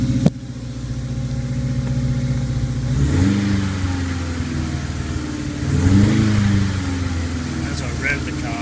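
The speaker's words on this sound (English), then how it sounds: "As I rev the car" A Subaru EA82T turbo engine idling near 1700 rpm is revved twice, each throttle blip rising into a louder, higher drone before settling back to a steady close hum.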